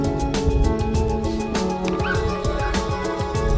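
A hunting dog barks repeatedly at deer during a hunt, sharp close yips and barks in quick irregular bursts with a few whimpering cries mixed in.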